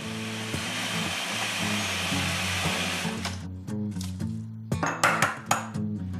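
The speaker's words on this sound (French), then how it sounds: "on va venir mixer tout simplement notre melon jusqu'à ce qu'on obtienne une texture assez onctueuse" Blender pureeing melon into a smooth base for sorbet: a loud, continuous whir for about three seconds, then the motor cuts off and a few light clinks of the bowl and utensils follow.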